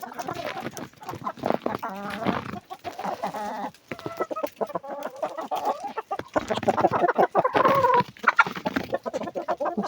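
Chickens cluck and squawk steadily inside a snowy winter shed while someone searches for eggs, with close, busy fowl calls filling the whole stretch.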